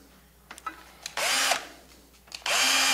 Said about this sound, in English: I'm going to drill a hole